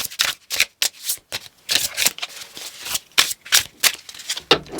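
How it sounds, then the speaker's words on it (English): Tarot cards being shuffled by hand in a run of quick riffling bursts with short pauses between them, close and crisp, with no talking. "I want to get a better shuffle."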